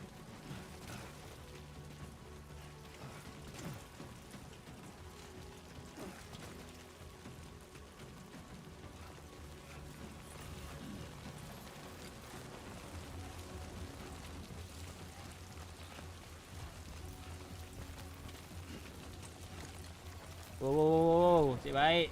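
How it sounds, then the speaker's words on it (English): Steady rainfall patters through the Death Stranding 2 game world under a low ambient rumble and faint game sounds, and a louder musical or tonal burst rises near the end. "Rain. Gotta move."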